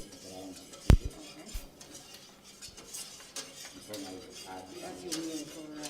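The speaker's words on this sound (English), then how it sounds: "You add some more flour. Again. Yeah. You stir it." A spoon stirs flour in a cooking pan for a mushroom sauce, with one sharp metallic clink near the start followed by soft, steady scraping and light tapping, close and fairly quiet.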